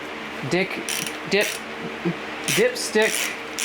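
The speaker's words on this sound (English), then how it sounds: "First, we're going to take off this bolt for the dipstick" A hand ratchet clicks in short bursts while loosening the dipstick tube bolt on a Dodge 5.7L V8 engine during a teardown, close and crisp, with someone speaking over it.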